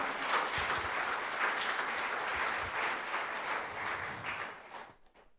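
A church congregation claps for the Lord in a steady, dense round of applause that sounds somewhat distant, holding for about five seconds before dying away into quiet.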